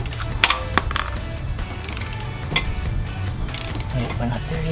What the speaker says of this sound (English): Put your torque wrench on it,